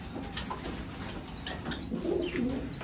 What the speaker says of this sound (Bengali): এইসব কিছু পায়রা নিয়ে এসেছি আমাদের কলোনিতে আমরা